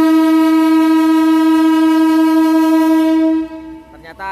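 A vintage 1938 train sounds a long, loud, steady horn blast at close range for over three seconds, then the horn cuts off, leaving the rumble and clatter of the train running fast.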